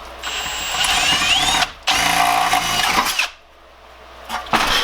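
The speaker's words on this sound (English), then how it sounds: "if we drill a hole there, that might help it as well" A power drill bores into rusted car body metal with a high grinding whine, stopping briefly once, then cutting out before a final short burst.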